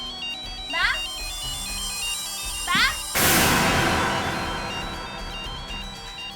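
A phone ringtone plays a repeating melodic pattern inside an empty house, with a few brief spoken calls over it and a sudden loud crash-like burst near the middle.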